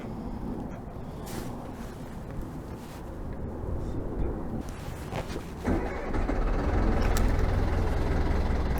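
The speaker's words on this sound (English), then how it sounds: "I'm going to try to start the engine and see how it starts." A Perkins 4.108 diesel engine fires up and settles into a low, steady rumble that grows louder and denser over several seconds, heard at a moderate distance with some background clatter.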